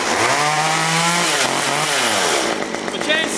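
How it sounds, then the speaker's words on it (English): A chainsaw pulled to life and running, its engine note rising and falling loudly and close up as it revs, then settling into a rough idle. "The chainsaw works great."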